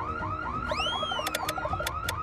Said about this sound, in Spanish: No puedes simplemente hacer sonar la alarma de incendios.